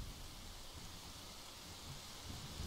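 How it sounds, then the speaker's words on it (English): Faint, steady video game rain hiss in The Legend of Zelda: Majora's Mask, with a low rumble underneath, continuous and even throughout, with no voices. "It's raining too."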